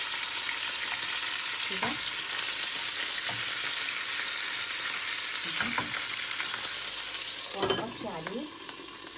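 Rice tahen layered with quail sizzles and crackles loudly in a hot pan as it is flipped, a continuous frying hiss with someone talking briefly over it.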